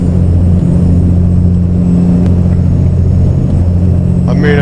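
A steady low truck engine rumble drones on a highway in American Truck Simulator, cruising at constant speed, loud and continuous, with a brief higher whine near the end.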